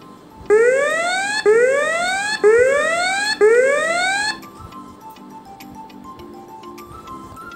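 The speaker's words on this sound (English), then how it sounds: "it will wait for 5 seconds, because we have set the delay time as 5 seconds, and then raise the alarm like this." An electronic alarm from a drowsiness detection device blares in four loud, repeating rising sweeps, each about a second long, then cuts off abruptly, leaving quieter background noise.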